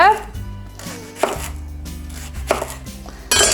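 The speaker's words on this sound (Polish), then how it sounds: "Teraz musimy oczyścić, dokładnie umyć i białą część pokroić na 2 cm krążki" A knife cuts the white part of a leek into 2 cm rings on a board, several firm close thuds spread irregularly over a few seconds under background music.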